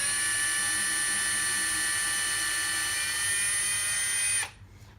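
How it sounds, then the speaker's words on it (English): Power drill boring into wood while upcycling a baby's cot, a loud steady whine held for over four seconds before it cuts off abruptly, leaving near silence. "As you can see, I drilled it a bit and took it out and just got rid of the sawdust"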